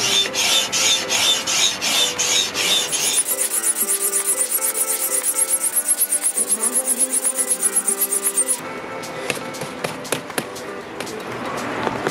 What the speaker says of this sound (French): La bonne vieille pompe.